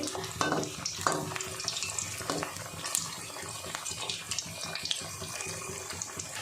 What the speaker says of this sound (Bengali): দেখুন কত সুন্দর ভাজা হচ্ছে